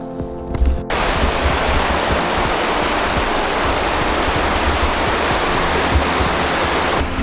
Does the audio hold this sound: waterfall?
yes